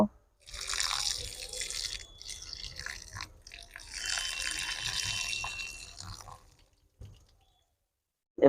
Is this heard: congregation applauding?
no